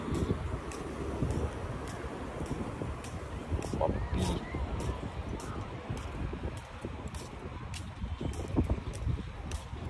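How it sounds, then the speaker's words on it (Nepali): Cold wind blows across the microphone at Long Sands Beach in the UK, a steady low roar with buffeting gusts, along with faint background noise. "क्या ठन्डा छ चिसो हावा"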